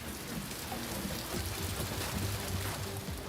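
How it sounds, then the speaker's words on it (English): Heavy rain pouring down steadily over mountains, a dense, continuous roar of falling water with a faint low rumble beneath, loud and unbroken throughout. "Rain poured down on the mountains above the valley."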